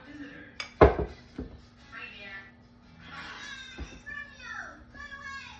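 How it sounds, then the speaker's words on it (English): A lid clanks sharply onto a frying pan of keto chicken patties, a single loud metallic knock followed by a softer second clink amid faint kitchen clatter and background voices. "I'm gonna put the lid on and let it cook for 5 minutes"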